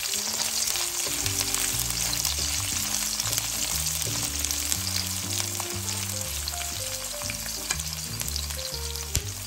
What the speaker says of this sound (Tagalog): Tapos po susunod po natin yung onions. Hanggang mag-translucent lang po siya.